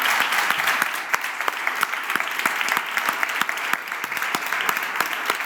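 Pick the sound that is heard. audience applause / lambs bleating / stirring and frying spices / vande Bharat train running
audience applause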